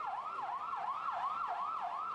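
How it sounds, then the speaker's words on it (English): A wailing ambulance siren sweeps up and down in steady, repeating cycles, loud and continuous with no voices. "Streams of ambulances came to carry away the dead and the injured."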